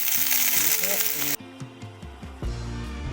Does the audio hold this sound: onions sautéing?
yes